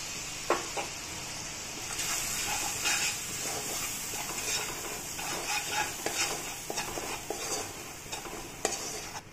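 Spoon stirring turmeric-spiced masala with a little water and salt in a pan for South Indian puliyogare rice, a steady run of scraping strokes over a soft sizzling hiss, fairly close.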